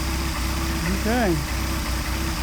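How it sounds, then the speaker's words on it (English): A Mercedes 190SL engine with a Solex carburetor idles steadily at 800 RPM, a close, even rumble with a regular low pulse, while a brief rising-and-falling tone passes over it midway. "Back at our 800 RPM idle."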